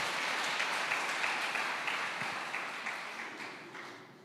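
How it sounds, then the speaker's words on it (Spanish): A church congregation applauds in a sustained round of clapping at a sermon, a dense crowd patter that slowly fades over a few seconds. "Dale un aplauso al Señor"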